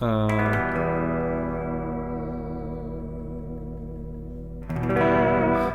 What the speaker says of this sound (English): And the guitar sounds really, really good.